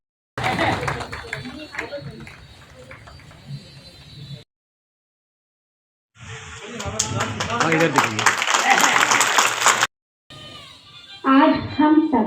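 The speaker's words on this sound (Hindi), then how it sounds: "जोरदार तालियों से" Applause at a community anniversary gathering in Giridih, Jharkhand, with crowd clapping swelling loudly in bursts between stretches of chatter and a mic'd voice, broken by brief silent gaps.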